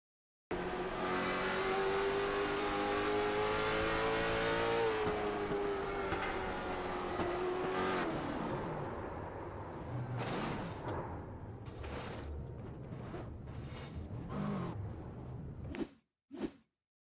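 Short track race cars roar around the oval in a dense pack, a loud continuous engine drone with rising and falling pitch, then several sharp whooshing passes toward the end before the sound cuts off.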